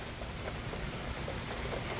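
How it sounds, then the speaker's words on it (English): Rain falls during a major supercell thunderstorm in Richmond Heights, a dense, steady patter on surfaces that fills the whole moment without pause. "It's starting to rain again."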